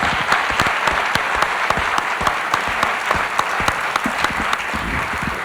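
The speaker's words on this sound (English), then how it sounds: "we all need and own a very big clap for him" Steady, dense applause from a large conference audience at an education and training event, loud and close with sharp individual claps standing out throughout, no voices over it.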